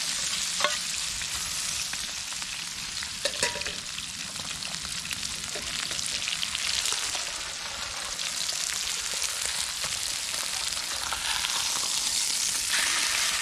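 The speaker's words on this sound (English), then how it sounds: "steaks are doing very well. A little bit too hot for them right now." Steaks sizzle over a campfire in a steady, dense crackling hiss that runs unbroken and fairly loud throughout, with occasional sharper pops and no talk.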